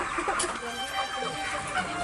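Chickens cluck and squawk at close range in a rural village setting, short busy bird calls repeating over a noisy background with people talking.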